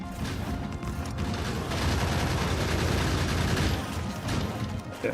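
Dense, continuous rattling gunfire from gun turrets blasting away at an enemy nest in the Factorio video game, steady and loud throughout with no voices.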